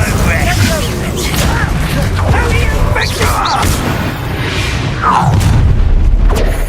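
Loud, dense spell explosions and blasts from Confringo and other combat magic in Hogwarts Legacy, with booming bursts layered over constant rumbling battle noise.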